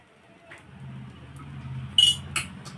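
A single light metallic clink as a lid settles onto an appe pan of masala dosa bites made from idli batter, with a soft sizzle underneath and a second faint tap just after.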